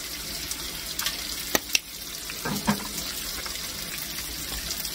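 Potatoes and cabbage fry in butter, seasoned with onion powder, paprika and seasoned salt. A soft, steady sizzle holds throughout, broken by a few sharp clicks and pops near the middle, with no talking.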